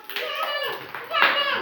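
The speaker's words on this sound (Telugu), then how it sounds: "కొట్టండి కొట్టండి క్లాప్స్" Children clap their hands in a loose, uneven patter, with young voices chattering and calling over the claps close by throughout.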